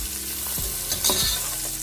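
Finely chopped onions hit hot oil in a pan while cooking pasta, and a steady, close sizzle with frying crackle follows, broken by a few soft bumps and scrapes of stirring.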